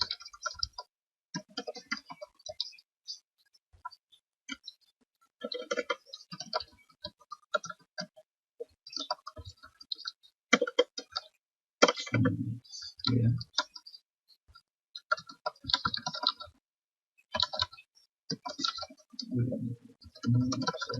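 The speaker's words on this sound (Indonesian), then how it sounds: "Berarti statement-nya ini harus diketik ya." Irregular bursts of clicking keystrokes on a computer keyboard, close and fairly crisp, with pauses between runs and some quiet talk in places.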